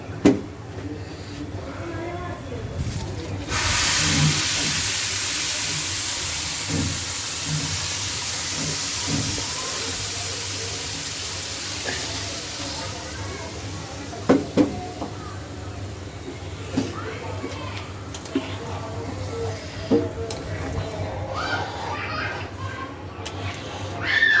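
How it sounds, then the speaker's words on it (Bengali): Hot water poured onto fried pulao rice in a hot pan sets off a loud, broad steaming hiss that lasts several seconds before settling into quieter bubbling and clinks, with someone talking throughout. "পোলাও চাল ভাজা ভাজা হয়ে গেছে, এখন গরম পানি দিয়ে দিই"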